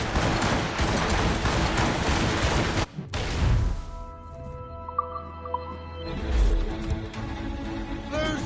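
Ship cannons firing in the game Assassin's Creed Rogue, a dense rolling volley of booms that then dies away into a ringing tail, followed by another swell of low rumbling blasts, loud and close.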